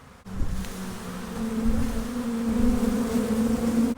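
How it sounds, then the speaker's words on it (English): A swarm of bees buzzing together in a steady, droning hum, close and continuous, swelling slightly after a brief start. "So we've got lots of bees in there."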